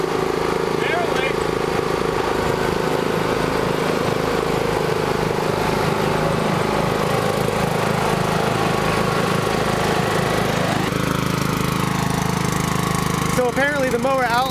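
A riding lawn mower engine runs roughly and struggles, loud and close, with a steady droning rumble that shifts pitch partway through; people talk over it near the end.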